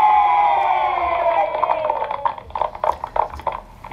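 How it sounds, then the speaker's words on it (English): A recording of children clapping and cheering, played by a brain-training program at the end of an exercise; a sustained tonal sound fades into bursts of crowd cheering and clapping. "The sound of the children clapping and cheering, that's the dopamine response"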